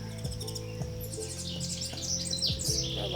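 Birds chirping and tweeting in bright, quick calls over a low droning hum, several calls overlapping near the end.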